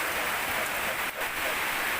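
Steady rain falls during a thunderstorm, a dense, even hiss of drops filling the whole clip at constant loudness with a brief dip near the middle.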